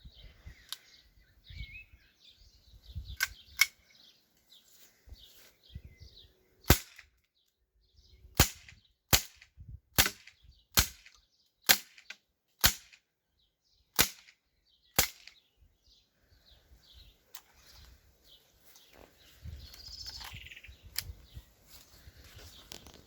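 Sharp air gun shots from a Stoeger RX40, a Gamo repeater and a Sig Sauer P226, about ten crisp cracks fired one after another at a steady pace, with quiet movement and a few words between them.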